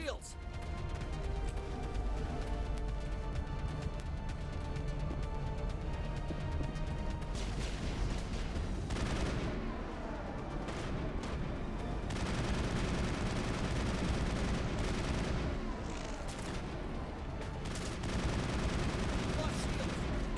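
Sustained gunfire from the Mass Effect video game rattles on almost without pause, with occasional heavier crashes, while a player talks over the din.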